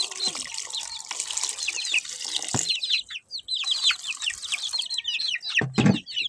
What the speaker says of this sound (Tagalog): Lagyan na lang natin ng tubig.